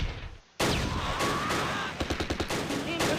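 Machine gun fire in the Close Combat wartime strategy game, a loud rattling burst after a brief quiet moment, followed by a string of rapid sharp shots.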